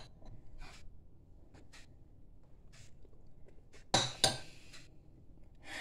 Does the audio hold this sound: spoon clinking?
yes